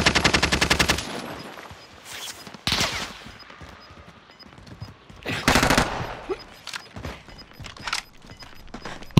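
Rapid bursts of automatic gunfire in Call of Duty: Modern Warfare, loud and close, with several separate volleys broken by short pauses across the stretch.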